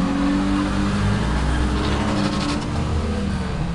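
A car engine roars continuously at high revs with tire noise, loud and sustained like a burnout, with no pause throughout.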